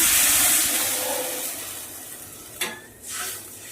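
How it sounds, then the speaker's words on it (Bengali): Hot water poured into a pan of frying eggplant with turmeric and salt gives a loud, steady sizzle and hiss that fades over a few seconds, with a short splashy burst near the end. "এইবারে দিচ্ছি গরম জল দিয়ে দিচ্ছি একটু"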